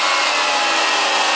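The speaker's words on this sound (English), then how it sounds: "So what I do is I stand in one place, vacuum straight, and then bring it back." A vacuum cleaner running steadily up close while vacuuming straight lines into carpet, a loud continuous broadband whoosh with no talking.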